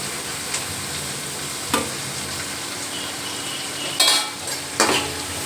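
Green chillies and tomato sauté in a pan for a mushroom gravy, a soft, steady sizzle with a few sharp clinks and scrapes of a spoon against the pan, without voices.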